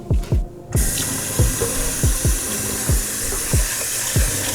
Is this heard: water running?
yes